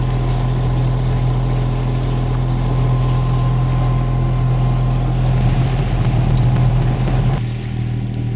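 Sailing boat motoring under engine through the Sound of Islay with little wind, a loud steady low engine drone that runs throughout and shifts in tone near the end.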